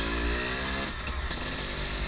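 A Yamaha Force One 110cc motorcycle engine runs loud and close, with a steady throaty rumble that briefly dips and surges as the throttle is blipped.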